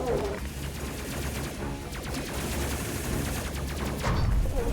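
Gunfire from spaceship gunners in the video game Space Crew, a steady stream of rapid repeated shots over a rumbling backdrop, growing louder toward the end with a heavier impact, with no voices.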